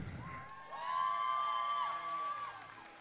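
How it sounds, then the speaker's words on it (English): Roller derby crowd cheering and whooping at a bout, one long high sustained shout rising over a broader swell of voices, the whole thing somewhat distant and reverberant. "So when we say cheer, we want to hear you cheer."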